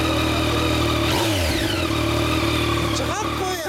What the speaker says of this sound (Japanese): 3気筒はね、1番エンジンの周りが理想的だよね。